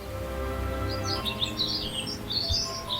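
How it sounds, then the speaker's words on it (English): A common cuckoo chick begs in a warbler nest, giving rapid high chirping calls in quick bursts over a low background hum, fairly close and clear. "Its rapid fire, begging call mimics a whole brood of hungry warblers."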